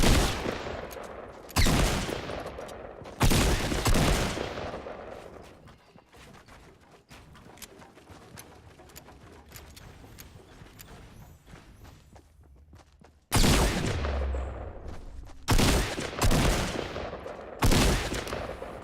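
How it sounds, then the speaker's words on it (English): Gunfire rings out during a gunfight in the video game Fortnite: loud rapid bursts of shots at the start, a quieter stretch in the middle, then more heavy bursts near the end. "He starts shooting me."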